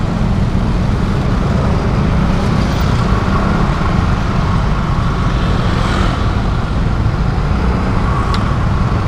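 Dense morning traffic jam on a busy road, a constant loud rumble of cars, buses and trucks crawling nearby, with faint passing engine swells over the unbroken roadway noise.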